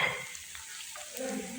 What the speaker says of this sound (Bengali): তেলের ভিতর দিয়ে দিচ্ছি,